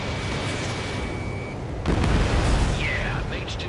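A radar vehicle target blows up in the Ace Combat 7 flight game, giving a sudden broad boom that swells and rumbles for about a second amid steady jet and battle noise, followed by faint whistling tones.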